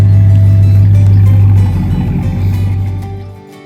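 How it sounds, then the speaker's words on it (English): A pickup truck engine drones loudly and steadily with a strong low hum while towing a 20-foot farm panel on a tow strap, then eases off and fades near the end. "Mike's about to hook onto this one with the tow strap in the truck and see if we can pull it"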